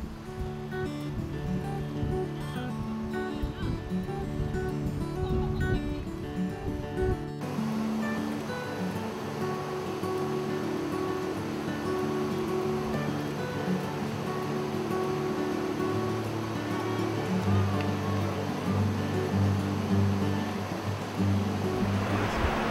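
Water of the Népisiguit River rushing steadily, a broad continuous wash with no breaks, close and fairly loud, with a lower hum joining partway through.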